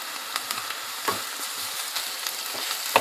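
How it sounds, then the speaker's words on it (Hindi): Ginger garlic paste added to hot oil with lightly browned onions for a chicken dish, giving a continuous close crackling sizzle with small pops and faint stirring clinks, no talking. "अब मैं इसमें ये हल्के हल्के ब्राउन हो गए, और अब मैं इसमें अदरक लहसुन का पेस्ट डाल देती हूँ।"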